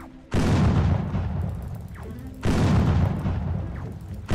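Two heavy booming gunshots fired in a Roblox battle game, each a sharp loud blast followed by a long rumbling decay, spaced about two seconds apart.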